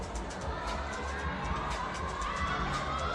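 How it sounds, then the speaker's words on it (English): Crowd cheering at a lead semi-final of a Wujiang climbing competition, heard as a dense, steady roar of many voices that holds at an even level throughout. "listen to that crowd in the background"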